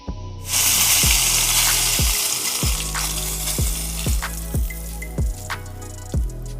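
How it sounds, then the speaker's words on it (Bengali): A large tail piece of katla fish fries in hot oil in a kadai, a loud steady sizzle with repeated low thumps and clinks from a spatula turning it, no talking. "মাছের লেজের টুকরোটা বেশ খানিকটা বড়, তার জন্য এটাকে এক্সট্রা করে ভেজে নেব"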